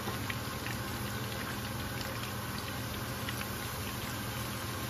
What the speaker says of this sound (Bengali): সবগুলো ভাজা হয়ে গেছে